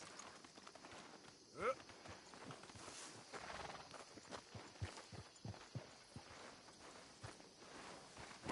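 Horse hooves clip-clopping on the ground in Red Dead Redemption 2, a brisk uneven run of close thuds with a neigh early on and voices talking over the steps.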